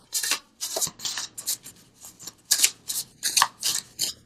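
Tarot cards from a visionary oracle deck being shuffled by hand, a rapid series of crisp riffling bursts in an uneven rhythm, close and clear with no talking.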